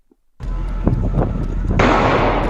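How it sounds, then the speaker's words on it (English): A sudden burst of sharp, loud gunshots erupts after brief silence, followed by a dense, rumbling roar like rapid gunfire or an explosion nearby, on a city street in Paris. "Gunfire ringing out and simultaneous reports of an explosion at a restaurant."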